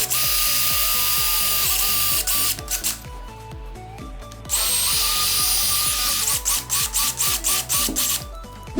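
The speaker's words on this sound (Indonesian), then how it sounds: "kalian harus siapin bor untuk bobok atau misalkan bor ke bagian temboknya" A power drill bores into a wall in two long, loud runs separated by a quieter pause, followed by a series of short, choppy bursts.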